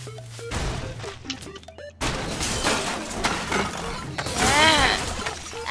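Glass shatters with a loud crash in the Goat Simulator video game, a burst of breaking debris amid busy game noise, with a sharp smashing passage near the end.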